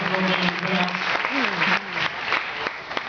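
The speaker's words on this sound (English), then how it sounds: "give Joe a round of applause again, folks" Audience applause for Joe at a Clay Aiken holiday show in Clearwater, a steady wash of clapping filling the room, with voices and cheers mixed in throughout.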